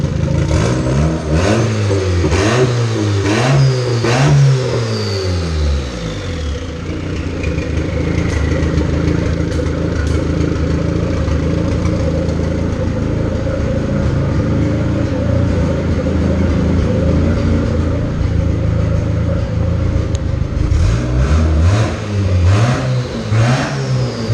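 A Honda Del Sol engine with decapped HunterTuned injectors revs up repeatedly in loud bursts, settles into a steady rumbling idle, then revs again near the end, close and loud.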